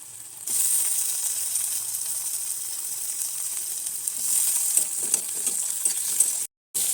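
Tomatoes are added to a hot pan of onions fried until reddish-brown, setting off a sudden loud sizzle that holds as a steady frying hiss, with faint stirring scrapes and a brief cutout near the end.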